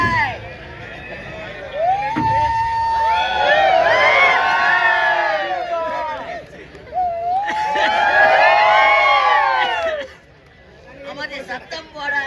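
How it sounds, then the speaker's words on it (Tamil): An audience at a Tamil stage drama shouts and cheers in two big swells of overlapping voices, loud and close, with a quieter lull between and after. "சத்தம் போடாத கூச்சல் போடாத சைலண்ட் சைலண்ட்."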